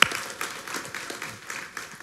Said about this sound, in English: If y'all could just give a little hand clap for Mark, that'd be great.